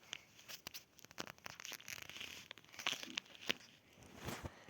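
A butterfly toy package being opened, with close crinkling, tearing and crunching of packaging in quick irregular bursts, fairly faint with no voices.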